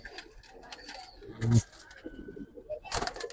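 Giribaz highflyer pigeons cooing in soft, low murmurs, with one louder burst midway and a brighter flutter near the end, set against faint background noise.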